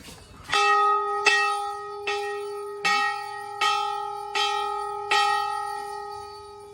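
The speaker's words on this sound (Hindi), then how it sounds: "ऊंची जगह, आपको घंटियां ही दिखेंगी।" Temple bells on a high spot ring out in a slow, regular series of about seven loud strikes, each clear metallic tone ringing and decaying before the next, with no voices.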